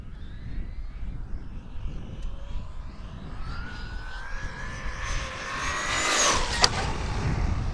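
A Traxxas Maxx RC car running on a 6S LiPo battery whines past at speed, a rising electric-motor pitch that swells louder and closer near the end, with no talking over it.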